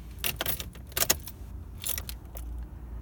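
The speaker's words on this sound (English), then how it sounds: "Now just turn the car on and make sure it works." Keys jangle and rattle in the ignition of a 1998-2002 Toyota Corolla as it is switched on, a few close, bright metallic bursts spread over a few seconds, with a faint low car hum underneath.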